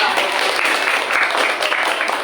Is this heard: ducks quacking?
no